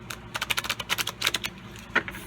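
Rapid crisp riffling clicks in quick bursts, like a deck of cards being shuffled close by, with brief pauses between runs.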